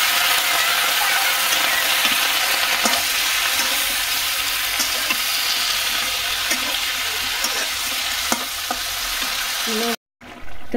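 Fish frying in a pan, a steady dense sizzle with repeated scraping and stirring clicks throughout, close and loud, cutting off abruptly near the end.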